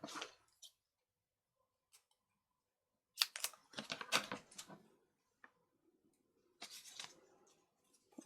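Dimensional tape for a file folder journal is trimmed with scissors: short, quiet snips and crinkly handling noises in scattered bursts, close by with long silent gaps between them.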